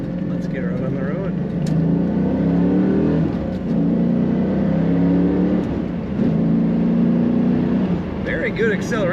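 A 1997 Chevrolet Camaro 30th Anniversary convertible accelerating on the road, its engine note climbing through gear changes, loud and close, with someone speaking over it.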